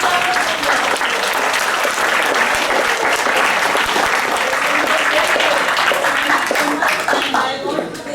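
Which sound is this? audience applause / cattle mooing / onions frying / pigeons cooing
audience applause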